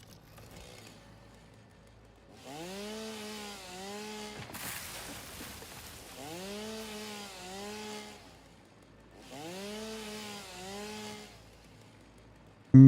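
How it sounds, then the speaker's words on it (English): A chainsaw in the video game Satisfactory cuts in three separate bursts, each a loud revving whine that rises and then settles. Quiet pauses fall between the bursts, and nobody speaks. "Chainsaw."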